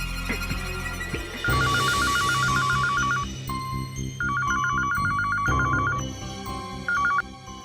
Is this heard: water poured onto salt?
no